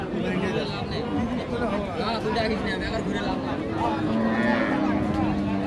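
A Sahiwal cow at a busy rural cattle market in Dinajpur lows with drawn-out moos amid crowd chatter, while people talk close by throughout.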